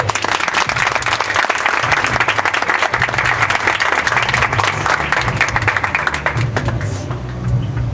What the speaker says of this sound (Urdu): میں چاہوں گا آپ میرے آقا، میرے منجی، میرے خدا کے لیے ذرا زور سے تالیاں بجا دیں۔